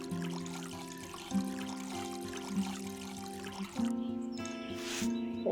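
Garden plants being watered in the video game Witchy Life Story, a soft trickling pour over steady game music with light chirps, short and close.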